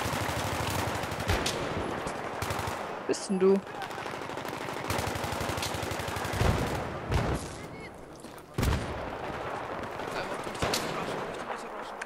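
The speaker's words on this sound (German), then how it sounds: "Ich schieß mit AK-74M, ne?" AK-74M rifle fire in the video game Battlefield 3 rattles in dense, continuous automatic bursts with explosions and combat noise, while someone speaks briefly.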